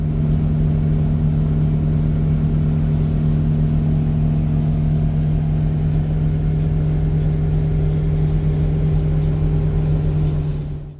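The engine of a Haryanto intercity bus runs again after a roadside repair on a night journey, a steady, loud, low-pitched drone with a constant hum that holds evenly throughout with no talking.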